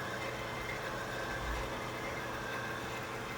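An Aillio Bullet R-1 coffee roaster preheating gives off a steady, even whir, a constant broadband hum with a low rumble underneath, held without change for the whole stretch at a moderate level.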